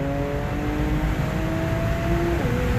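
A modified Infiniti Q50S sports sedan, built to around 500 horsepower, accelerates hard, its engine holding a loud steady drone with a tone that climbs gradually and then drops at a gear change.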